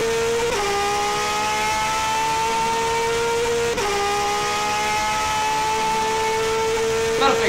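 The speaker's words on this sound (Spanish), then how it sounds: "vamos por la primera vuelta rápida con el auto del 2020 de Mariano Werner" A 2020 Ford TC race car engine screams at high revs through a fast lap, a loud, close, continuous whine that drops in pitch briefly with two quick gear shifts before climbing again.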